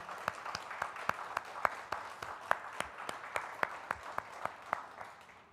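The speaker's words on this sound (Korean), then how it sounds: "한번 큰 박수로 격려하도록 하겠습니다" Sparse, scattered claps from a small church congregation at a special dawn prayer service with children, parents and teachers, individual hand claps landing unevenly and fairly close over a quiet room.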